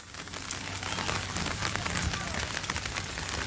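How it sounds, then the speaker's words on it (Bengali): Steady rain keeps falling over a flooded village area, a soft continuous patter and hiss on surfaces, fairly faint and even throughout. "অবিরামভাবে বৃষ্টি পড়তেছে"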